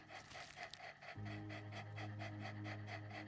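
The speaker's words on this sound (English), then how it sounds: "Look at all of the doggos." Several dogs pant in fast, steady rhythm, close and fairly loud, with a low electronic hum in the background.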